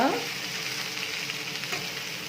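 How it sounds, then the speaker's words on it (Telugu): Okra coated in masala sizzles steadily in a frying pan while being stirred, giving a close, even hiss with light scraping. "చూస్తారు కదా ఎలా కలుపుతున్నాను"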